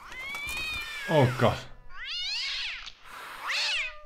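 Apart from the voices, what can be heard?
cat meowing in TKKG video game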